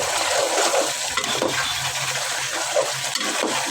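Raw chicken pieces go into a pan of fried spice paste and are stirred, giving a steady wet sizzle with scraping and stirring clatter, close and continuous, with no talk.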